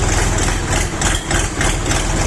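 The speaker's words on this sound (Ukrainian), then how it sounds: "Все, чуєте, запрацював двигун вже спокійно, вже не рохкає вам." A KENTAVR 24 hp mini tractor engine idles steadily, a loud, close, low rumbling chug with an even throbbing rhythm and no voices.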